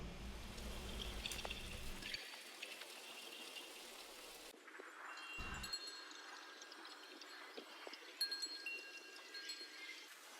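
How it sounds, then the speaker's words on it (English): Steady soft rain with scattered drips and faint chime-like tones, a continuous gentle wash of water sounds with no talking. "These are just rain sounds with some chimes or whatever, and then they loop over."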